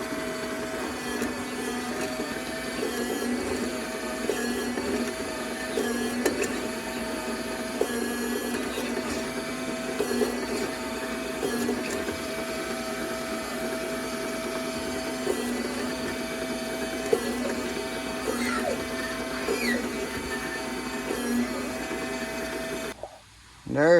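Electric slicer set to about a quarter inch cutting yellow squash, a steady whirring motor hum that runs on continuously with faint chopping texture, then cuts off abruptly at the end.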